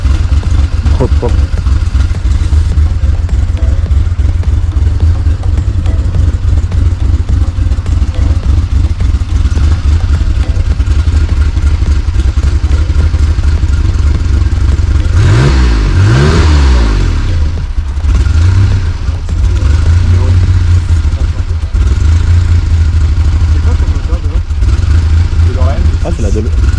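A DeLorean's V6 engine runs loud and close with a rough, uneven idle and a brief revving burst near the middle, while people talk over it.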